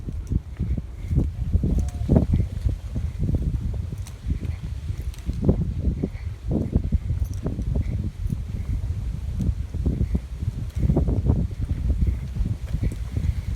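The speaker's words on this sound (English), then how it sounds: "A little breezy." Wind gusts over the Dartmouth harbourfront, buffeting the microphone with a steady low rumble that swells and eases in repeated surges for the whole stretch, with no voices.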